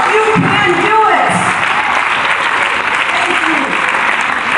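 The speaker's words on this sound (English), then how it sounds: "Give yourself a round of applause." A conference audience applauds itself in Lagos, Nigeria, sustained broad clapping filling the room with some voices and cheering mixed in beneath.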